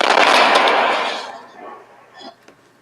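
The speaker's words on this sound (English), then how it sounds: "a huge lightning bolt which follows by this noise, this huge bang" A single huge thunder bang from a nearby lightning strike, played back as a recording: a loud broad rumbling burst that fades over about a second, followed by faint crackles.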